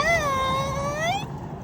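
A cat lets out a single drawn-out meow lasting just over a second, close and clear over a low background rumble.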